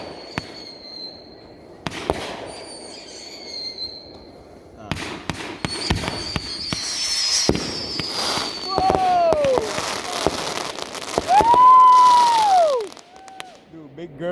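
Fireworks show with big cannon-style shells going off in a series of loud booms with deep bass, some crackling and whistling rises between, while people react and shout nearby.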